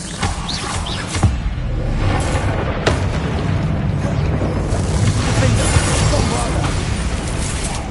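Bombarda spell explosions in Hogwarts Legacy, heard as steady, dense rumbling combat noise broken by a few sharp booming hits, with voices shouting over the din.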